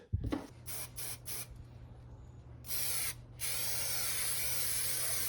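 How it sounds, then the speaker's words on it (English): Bursts of Super 77 spray adhesive hiss from an aerosol can, a few short puffs followed by longer continuous sprays, close up over a steady low hum. "apply a layer of this Super 77 spray adhesive"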